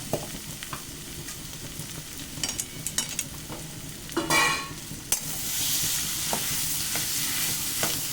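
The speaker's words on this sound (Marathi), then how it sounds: "आता हे छान आपण असं परतून घेऊया." Boiled potato filling for stuffed chili pakoras is stirred in a hot pan, sharp scraping clicks of a spoon against metal over a low sizzle that swells into a louder, steady frying hiss.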